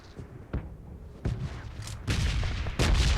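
Grenade and gunfire blasts in a shooter video game: a few heavy booms and sharp shots, loud and close, building in intensity toward the end.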